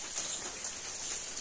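Rain falls as a soft, even hiss that is fairly quiet and continuous through a brief stretch.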